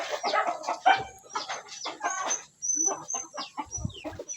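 Rhode Island Red chickens cluck at a farmyard with goats and turkeys, a busy run of short, choppy clucks and calls at close range with brief pauses between bursts.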